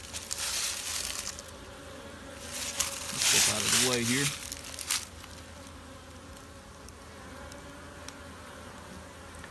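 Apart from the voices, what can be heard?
honey bees flying around the hive entrance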